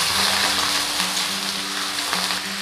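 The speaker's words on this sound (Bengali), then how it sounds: "শাকটা আমি পেঁয়াজের সাথে ভালো করে নেড়ে চেড়ে মিশিয়ে নেব।" Jute leaves being stir-fried with onion in a pan, a continuous dense sizzle with soft stirring motion, close and steady for a brief stretch, no voices.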